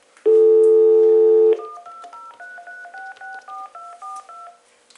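A steady dial tone on a Panasonic KX-TG5243 phone is followed by a quick series of touch-tone beeps as an outside number is dialed, loud and close.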